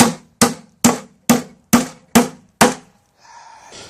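Seven evenly spaced hammer blows drive a nail into an old-wood plant stand made from a picnic table, sharp close knocks at a steady rhythm, followed by a faint rustle.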